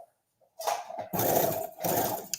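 A small sewing machine whirs in short runs, stitching a few stitches in reverse and then going forward. A brief low hum comes first, then two loud, close motor bursts separated by a short gap.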